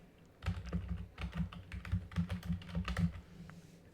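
Fingers type on a computer keyboard in a quiet room, a close, irregular run of soft clicking keystrokes that trails off toward the end.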